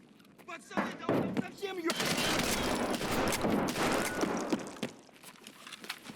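Shotgun fire rings out in a first-person shooter video game, several quick blasts and crackling bursts layered together at moderate loudness amid game noise, with a voice talking over parts of it.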